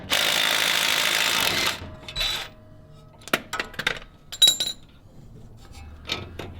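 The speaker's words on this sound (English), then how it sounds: "we're going to use the impact on one side and then a wrench on the other." An impact wrench works on a 17mm lower shock bolt on a truck. A loud, rattling burst lasts under two seconds, followed by scattered metallic clinks and clatter of tools and parts close by.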